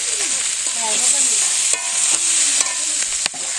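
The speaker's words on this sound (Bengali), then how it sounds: "যেমন সবজিটা ভালো করে ভেজে নিলাম" Vegetables for a winter vegetable khichuri stir-fried in a pan, a bright continuous sizzle under intermittent scrapes and clanks of a utensil moving through the pan, close and fairly loud.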